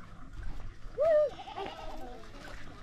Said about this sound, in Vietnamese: những cái con dê. Và có cả những cái con cừu kìa.